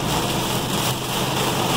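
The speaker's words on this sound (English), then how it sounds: "it's a pretty good rainstorm" Heavy rainstorm pounding a truck moving at about 40 mph on a road in West Virginia, a dense, steady roar of rain on the vehicle with no pauses.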